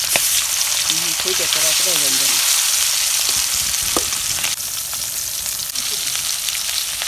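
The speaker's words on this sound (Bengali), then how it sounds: "তেল গরম হয়েছে, আমি মাছগুলো দিয়ে দিলাম।" A 3 kg carp sizzles and crackles in hot oil in a pan, a loud, dense, steady fry throughout, with a few brief spoken words over it near the start.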